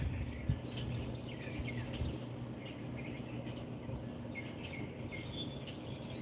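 Many birds chirping and calling faintly across a backyard garden that echoes, with a low steady background hum.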